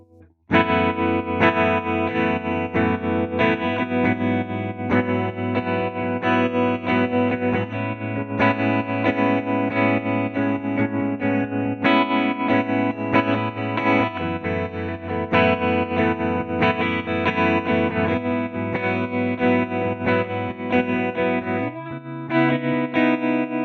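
Electric guitar through a UA Showtime amp plugin, heavily effected with distortion and chorus, plays sustained chords and notes continuously and loudly, with no talking.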